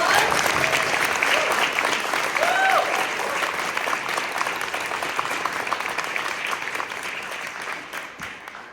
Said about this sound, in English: Can we just give a huge round of applause?